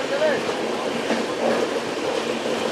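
A high-speed passenger train running on rails between Bhopal and Nizamuddin, heard from inside as a continuous rumbling roll with faint rhythmic wheel clatter and occasional thin squeals, steady and moderately loud.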